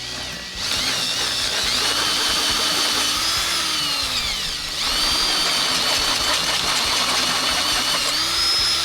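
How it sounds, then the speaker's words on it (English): A power drill whines loudly and continuously, its pitch dipping and climbing as the bit bites into metal while drilling out bolt holes in Jeep JL axle brackets, close up. "So out it comes, and I gotta drill those out."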